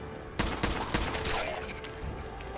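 Rapid gunfire from the Fallout 4 video game rattles off in a loud, dense fusillade of overlapping shots over a steady noisy bed, with no talking.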